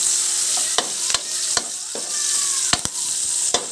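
Chayote and cabbage sautéing in a pan, with a steady close sizzle and sharp spatula scrapes and taps striking at irregular intervals as the vegetables are stirred.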